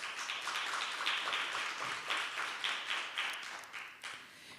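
A conference audience claps in a steady, moderately distant round of applause, a dense rolling patter that swells and gradually thins toward the end, with no speech over it.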